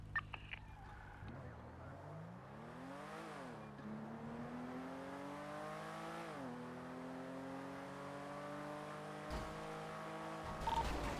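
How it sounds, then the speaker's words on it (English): A car accelerates in GTA V on the NoPixel roleplay server, its engine tone climbing in repeated revving sweeps as it shifts through gears, steady and fairly quiet. "All right, start accelerating."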